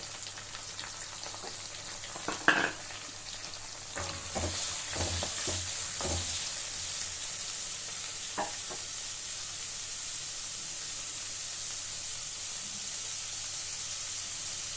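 Steady sizzling of onions frying in a pan for a seafood fish curry, with a few scraping stirs early on, close and continuous throughout.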